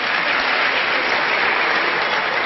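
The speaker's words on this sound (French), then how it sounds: "Applaudissez pour le promesse." A crowd at a French-language political speech claps steadily and loudly, a dense unbroken wash of applause with no voices standing out.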